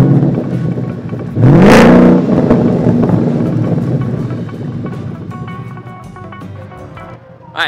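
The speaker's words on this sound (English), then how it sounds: "I revved it up to 3000, that way you can hear the difference" A Ford Mustang engine with a catback exhaust revs sharply to 3000 rpm, climbing in pitch with a throaty exhaust roar, then settles and fades toward idle before a brief blip at the end.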